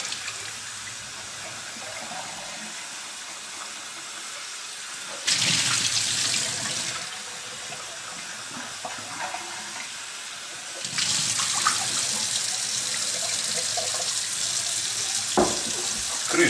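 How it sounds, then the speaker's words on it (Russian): Cold tap water runs steadily over metal jar lids being rinsed under the faucet, a continuous close splashing hiss that swells louder at two points as the flow is adjusted or the lids are moved under the stream. "просто под проточной водой, холодной."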